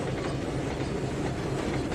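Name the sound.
train running in the video game Trainz 2019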